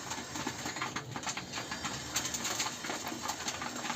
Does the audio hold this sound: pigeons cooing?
yes